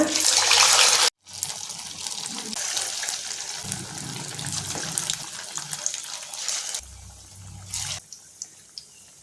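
Vada dough drops into hot oil and fries with a loud continuous sizzling hiss, close up, easing slightly with scattered pops toward the end.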